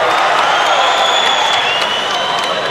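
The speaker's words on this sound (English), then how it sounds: "The crowd, you can tell they're cheering him on." Crowd at an M-1 Challenge MMA event cheering on a fighter, a dense, steady roar of voices that stays loud and continuous with no breaks, whistles and shouts blurred into the wash.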